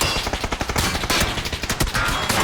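Rapid gunfire crackles in dense bursts in a PUBG match, sharp repeated shots stacked close together with bullets flying, loud and continuous for a couple of seconds.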